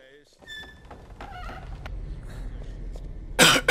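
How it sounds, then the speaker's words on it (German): A character coughs in the video game Ultima 9, a short burst of harsh coughs near the end after quieter game ambience with faint clunks and tones. "Wer hustet hier so stark?"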